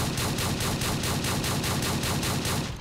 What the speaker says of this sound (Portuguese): Ele tem uma metralhadora de shotgun no braço esquerdo, certo? Que ela atira sem parar,